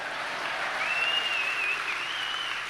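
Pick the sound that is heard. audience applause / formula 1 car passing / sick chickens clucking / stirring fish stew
audience applause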